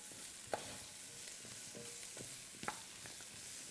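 Garlic is added to a pan of spices being cooked down for Hungarian goulash, giving a faint, steady sizzle with a few sharp clicks of a spoon stirring against the pan.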